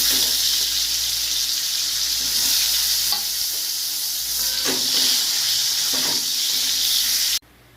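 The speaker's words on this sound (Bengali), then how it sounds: "এবার এই তেলেই এই আলুগুলো ভেজে নেব।" Potatoes frying in oil that was just used for aubergines make a loud, continuous sizzle up close, with a few stirring clinks, before it cuts off abruptly at the end.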